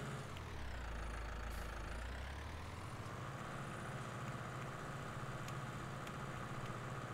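A tractor engine in Farming Simulator 19 drones steadily at a low idle-like pitch throughout, close and continuous with no voices over it.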